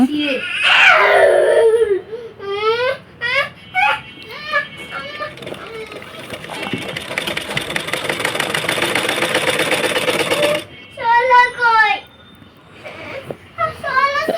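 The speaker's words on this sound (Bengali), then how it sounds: "এখন এখান দিয়ে একটা লম্বা সেলাই করে দিব" A sewing machine stitching a long seam in sari fabric gives a steady mechanical whir for several seconds mid-clip, with someone talking before and after it.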